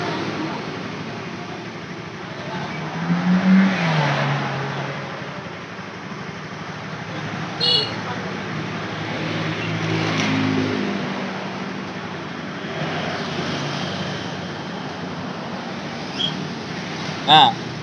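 Motorcycle engine idling steadily during electrical short-circuit repair work, a low continuous hum with small clicks, under intermittent talk from people nearby.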